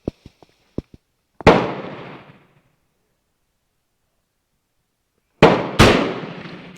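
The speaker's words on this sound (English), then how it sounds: "Now I shoot at the 6 o'clock position, which is at the very bottom of the outer ring." A Yugoslavian SKS M59 rifle fires at a paper target, with two sharp, loud shots that ring out and decay, spaced a few seconds apart after some light clicks and handling noises.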